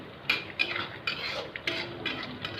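A spoon scrapes and mashes tomatoes into masala in a pan for a cabbage and potato curry, giving about six close, rhythmic scraping strokes with no talk.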